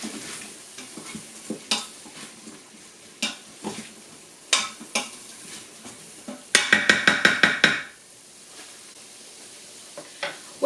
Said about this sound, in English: Stir that up again.